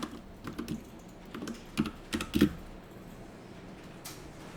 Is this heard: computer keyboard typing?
yes